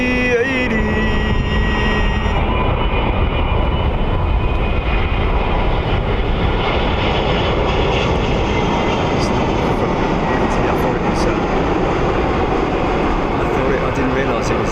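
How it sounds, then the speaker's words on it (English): An Etihad Airbus A380 jet at London Heathrow produces a loud, steady broadband engine roar that fills the whole stretch, with a voice talking over it. "the undisputed heavyweight champion of the air. The Airbus A380."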